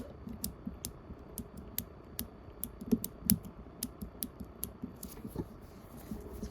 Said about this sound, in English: You can pop this on and off.